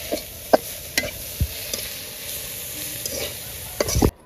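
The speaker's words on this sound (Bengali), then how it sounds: "এখন শাকের সাথে মিশিয়ে ভাজা করে নিব" Greens with onion and garlic frying in a pan: a steady close sizzle broken by several sharp stirring clatters and scrapes.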